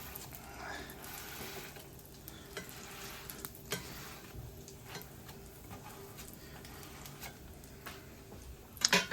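Cheeseburger patties frying in a pan, a quiet steady sizzle broken by scattered ticks and scraping taps, with a louder clatter near the end.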